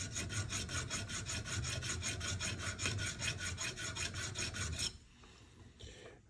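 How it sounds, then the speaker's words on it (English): A metal file rasps in quick rhythmic strokes against the inside of a metal jaw harp frame, close and steady, then stops abruptly, leaving near silence with a faint trailing scrape. "why can't it sharpen the inside of a juice harp?"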